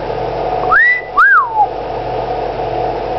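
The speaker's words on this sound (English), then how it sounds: "Oh, you're gonna whistle." A pet bird whistles two clear rising-and-falling notes in quick succession, close and fairly loud over a steady low background hum.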